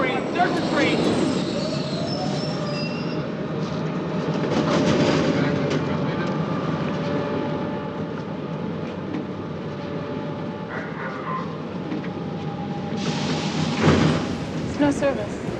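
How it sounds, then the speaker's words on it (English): A subway train pulls into a station platform, a loud sustained rumble with metallic rail noise and a brief high squeal near the end, while people talk nearby. "there's a train"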